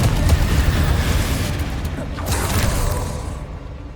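A Confringo blasting spell explodes in Hogwarts Legacy, a loud booming blast with a crackling burst that trails off over about four seconds.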